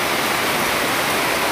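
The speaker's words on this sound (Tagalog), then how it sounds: "nabuhos ang malakas na ulan" Heavy rain pours down in a dense, steady hiss, loud and unbroken from start to finish.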